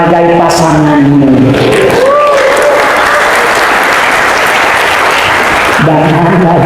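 Loud applause from a live audience at a comedy stage show fills the middle of the stretch. Talk comes just before and right after the clapping.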